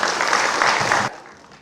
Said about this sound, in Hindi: आप सभी की जोरदार ताली से माननीय मुख्यमंत्री जी